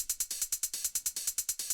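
A techno hi-hat groove played with choke on, with crisp, bright hi-hat hits in a fast, even rhythm, each cut short before the next, loud and alone.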